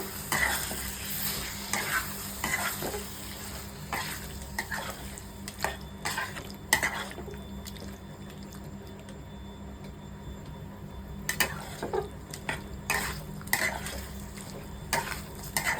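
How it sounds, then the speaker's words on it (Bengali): A spoon stirs yogurt into paneer in a frying pan, giving repeated scraping and clinking strokes over a low sizzle, close by, with no talking. "দইটা দিয়ে এবার ভালো করে মিশিয়ে নেব।"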